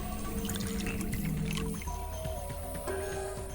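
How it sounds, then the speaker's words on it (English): Liquid solution poured into a beaker in the puzzle game Zero Escape: Virtue's Last Reward, a soft continuous trickling and gurgling under background game music. "I'll just pour the sewing solution in here"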